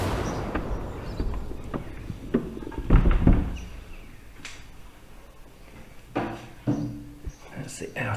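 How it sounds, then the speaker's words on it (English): The wooden outer door of a village church in Flash, in the Peak District, opens with a series of heavy clunks and knocks, loudest near the middle, while a person talks over it. "That's the outer door."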